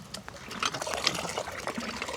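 Water splashes and trickles steadily, a close, continuous pour with a broad hissing wash and occasional louder gushes.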